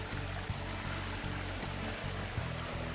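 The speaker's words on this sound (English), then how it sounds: "After such a rest area you can find a cave waterfall" A cave waterfall at Krushuna, Bulgaria, pours as a steady, quiet wash of falling water, even and continuous with soft low thumps underneath.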